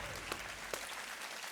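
Studio audience applause on a televised quiz show, a steady crowd of clapping heard at moderate distance, with a couple of sharper individual claps and no talking.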